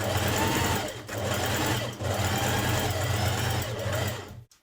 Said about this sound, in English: So just stitch round that neck edge.